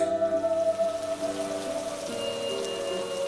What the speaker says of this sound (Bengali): বাইরে খুব জোর বৃষ্টি হচ্ছে